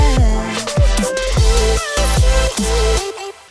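The second drop of an electronic track pumps with heavy kick-driven bass, bright synths and a quick drum fill with pitched-up snares, loud and dense, with a brief cut near the end.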